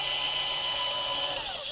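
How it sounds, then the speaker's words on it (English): Power drill with a bit boring straight through wood for a plant stand, a steady high whine running continuously at close range with no talk. "So the first thing I'll do is just simply drill straight through"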